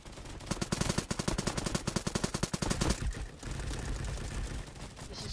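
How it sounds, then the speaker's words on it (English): Rapid automatic gunfire in the Roblox shooter Bad Business crackles in fast, evenly spaced bursts for a few seconds, then gives way to a softer, noisy background. "Super quick gun!"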